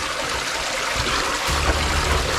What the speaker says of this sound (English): Creek crossing right now.